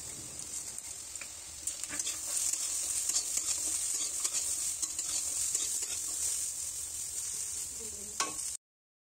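Cauliflower florets and peas fry and are stirred in a wok, a steady close sizzle with scraping and clinks from stirring, running without pause before stopping abruptly.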